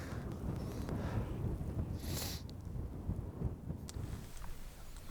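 Strong wind buffets the microphone at a fishing spot, a steady, loud rumbling roar with gusts that rise and fall and no break for the whole stretch.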